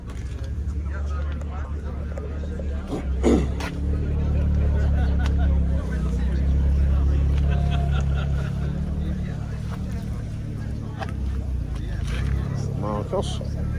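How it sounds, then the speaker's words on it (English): A classic car's engine idles and rumbles at a classic car meet at a distillery in Black Bourton, a low steady drone running under nearby conversation and general crowd chatter. "But it's got an interesting engine, but it makes a good noise."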